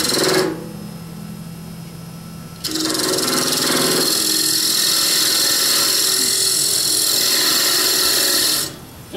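A lathe cuts a groove about a quarter inch deep into a threaded pewter collar, giving a loud, sustained whirring scrape that swells after a short quieter start and then drops off near the end.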